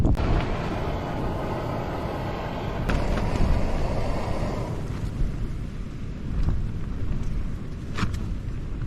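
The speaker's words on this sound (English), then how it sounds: "It is getting really windy here." Strong wind roars and buffets against the microphone at a winter wild camp on a historic rath, a constant heavy rumble with occasional gusts and faint crackles.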